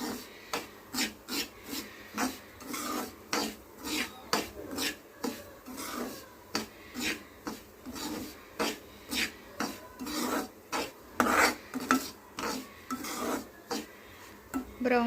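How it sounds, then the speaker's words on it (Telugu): Semolina (rava) roasting in ghee in a pan for ravva kesari is stirred without pause, a steady rhythm of close, dry scraping strokes roughly twice a second for the whole stretch. "బ్రౌన్ కలర్ వచ్చే వరకు తిప్పుతూనే ఉండండి, లేకపోతే అడుగున అంటుకొని రవ్వ మాడుతుంది."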